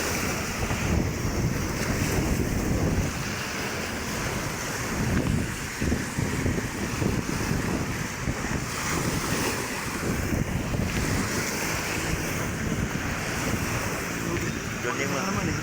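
Loud, continuous roar of crashing monsoon sea waves at Manila Bay mixed with strong gusting wind buffeting the microphone, steady throughout with no pauses.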